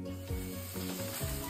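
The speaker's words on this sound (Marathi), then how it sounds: "मसाला आपला छान भाजला आहे" Masala for chole sizzles in hot oil in a pan, a soft continuous frying hiss with gentle stirring strokes, close and even, with no voices.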